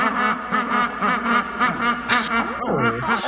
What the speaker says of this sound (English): a compilation of unusual sounds that the typical penguin might make